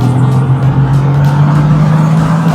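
2025 Bentley Continental GTC Speed accelerating, a steady low engine drone building with power, heard from inside the car at close range without any voices.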